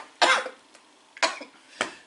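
Three sharp coughs, close and fairly loud, spaced about half a second to a second apart, with a faint click between them and no talking.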